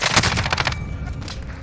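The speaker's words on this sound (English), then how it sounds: "I see that there's someone shooting me from behind now" Rapid automatic gunfire in Call of Duty Modern Warfare, a loud close burst of quick repeated shots followed by quieter scattered firing, no talk.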